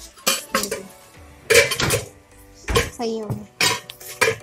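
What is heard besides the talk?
steel dishes and trays being handled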